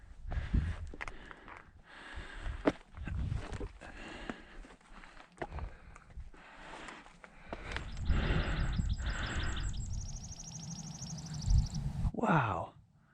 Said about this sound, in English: That little bird made a really cool sound as it came down to dive in onto that rock